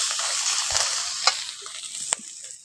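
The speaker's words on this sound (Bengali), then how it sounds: "আদা রসুন বাটাটা পেঁয়াজের সঙ্গে একটু ভালো করে কষে নেব।" Ginger-garlic paste frying with onion, turmeric and Kashmiri red chilli powder in a pan, a steady close sizzle broken by a few sharp stirring scrapes.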